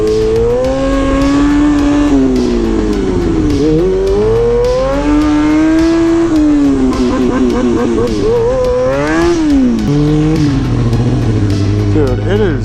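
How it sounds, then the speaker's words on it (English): A motorcycle fitted with a new motor revs and surges continuously while riding wheelies on rough town streets, its engine note rising and falling through sustained loud throttle swells, with people talking over it. "This bike really does feel different with the new motor."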